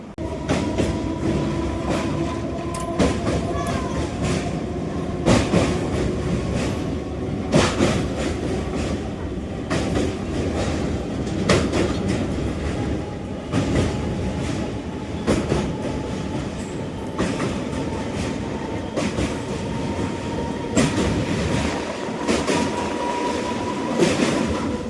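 A passenger train runs along the rails between Sitarampur and Mugma stations, loud and steady rumble from inside with rhythmic clickety-clack wheel beats recurring throughout and faint squeals.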